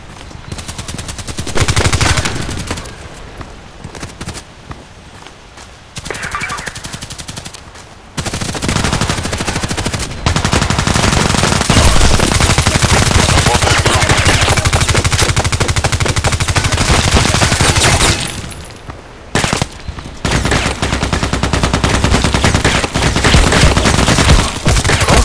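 Rapid bursts of KAC PDW rifle fire in the online shooter Contract Wars, loud and close, with long sustained strings of shots broken by brief pauses and a few quieter gaps.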